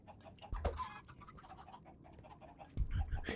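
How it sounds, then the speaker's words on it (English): Minecraft chickens cluck in short, soft bursts, with a couple of louder thumping hits among the game sounds, all fairly quiet. "Now the chickens are in the way"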